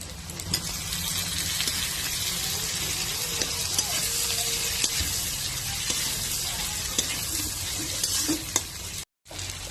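Tomatoes and onions fry in a pan with a loud, steady sizzle, punctuated by occasional clacks from stirring.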